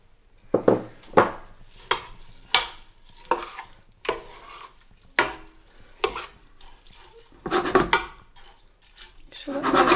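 Spoon stirring cumin pilau rice with water in a cooking pot, a series of distinct scraping, sloshing strokes at an irregular rhythm, close and fairly loud, with no talking.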